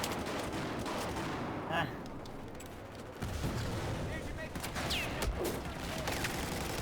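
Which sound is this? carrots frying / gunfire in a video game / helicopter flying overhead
gunfire in a video game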